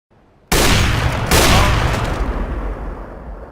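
Sustained video-game gunfire from pre-firing around a corner: a loud, dense burst of rapid shots starts abruptly and rolls on continuously, with a fresh surge partway through, up close and without talk.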